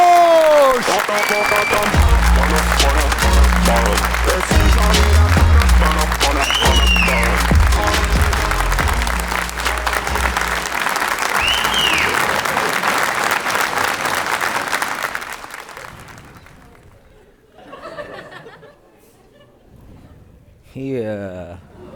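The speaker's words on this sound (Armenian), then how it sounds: "Եկեք ծափարություններով դիմավորեք։" A studio audience welcomes contestants with loud, sustained applause and cheering, underscored by music, fading after about fifteen seconds into quieter music and a few voices.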